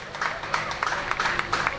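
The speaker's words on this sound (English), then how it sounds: "Ladies and gentlemen, huge round of applause for the teams playing on the field." A crowd at a polo grand final applauds the teams on the field, a soft, distant patter of many hands with faint voices mixed in.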